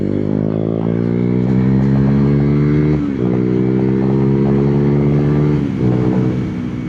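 A KTM Duke 390 v2 with a Termignoni exhaust and a quickshifter rides on a hot Malaysian day, its loud, close engine note climbing steadily and dropping sharply at two quick gear changes.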